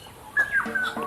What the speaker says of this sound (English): This is jungle babbler. You can see it is chirping continuously.